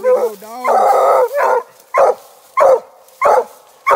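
A hound dog on a coon hunt gives a string of loud, close barks. A long drawn bay comes first, then short barks repeat at a steady rhythm of roughly one every two-thirds of a second.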